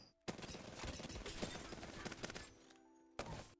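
R99 submachine gun in Apex Legends firing one long rapid burst of dense, loud gunfire for over two seconds, then a brief pause and a second short burst.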